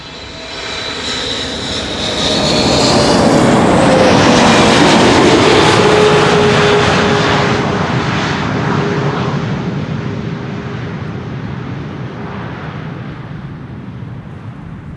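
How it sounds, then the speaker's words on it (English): A KLM Boeing 777 airliner arriving at Amsterdam Schiphol swells into a loud, close engine roar that peaks and then fades into a long, trailing rumble. "This is KLM Flight 744, another triple."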